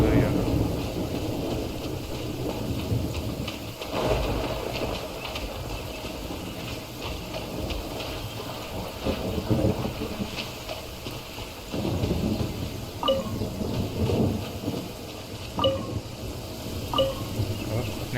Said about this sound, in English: यार कितनी तेज़ बारिश की आवाज़ आ रही है